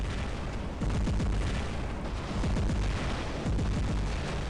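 Haechi robot weapons in the War Robots game fire a rapid string of heavy booming shots, loud blasts repeating in quick bursts over a constant rumbling battle din.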